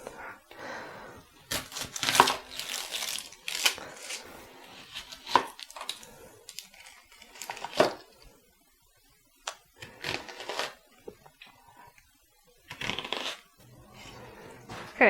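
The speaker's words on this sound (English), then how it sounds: "I'm going to start by chopping my onion." A knife chops an onion on a cutting board in irregular bursts of crisp, close taps and slices, pausing between groups of cuts in a quiet kitchen.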